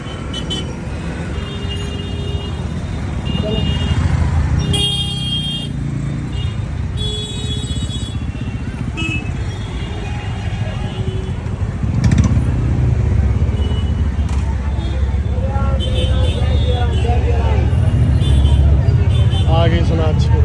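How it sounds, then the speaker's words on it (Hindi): Road traffic rumbles outside a school at dismissal time, with passing vehicles and occasional horn-like tones. People talk loudly and nearly continuously over the traffic. "अभी थोड़ा ट्रैफिक लगना चालू हो जाएगा क्योंकि स्कूल का छुट्टी हुआ है, भीड़ भाड़ हो जाता है।"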